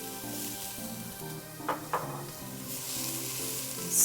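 Vegetables softening in a pan before tomato paste is added for braised short ribs, with a soft continuous sizzle, a couple of quick stirring scrapes in the middle and a brief louder burst at the end.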